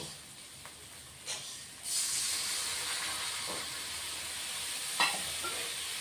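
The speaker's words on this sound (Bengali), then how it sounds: "দিয়ে আলুর সাথে মশলাগুলি কষিয়ে নিচ্ছি" Potatoes and spices sautéing in a pan, with a soft, steady sizzle and hiss and a few scraping stirs, all fairly faint.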